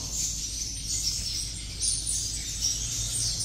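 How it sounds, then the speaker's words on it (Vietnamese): Young sunbirds sing in high, thin, repeated chirps over a low background hum, moderately close and without speech. "mấy chim con này nó hót cả ngày"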